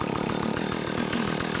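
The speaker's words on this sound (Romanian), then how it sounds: "Haideți, mă, Andrei, ia drujba." A chainsaw runs loud and steady at close range outdoors while wood is being cut for firewood, its engine buzzing continuously with a slight pulsing rhythm and no voices over it.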